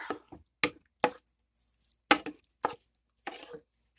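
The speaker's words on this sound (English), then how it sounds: "We're going to mix this together" Prego mushroom sauce is stirred into meat sauce, a series of wet squishing, plopping spoon strokes close up, spaced irregularly with quiet gaps between.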